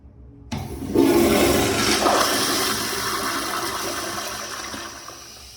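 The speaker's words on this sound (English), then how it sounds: "The flush is decent. It needs shorter and it needs more power." A Sloan Royal flushometer toilet in a men's restroom flushes with a sharp valve opening, then a loud rushing surge of water that gradually tapers over several seconds, heard alone and close.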